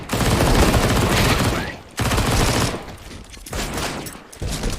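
Tech-9 pistol fire in a Counter-Strike match crackles in dense, rapid bursts, loud and close, with brief gaps between volleys and a busy game soundscape behind.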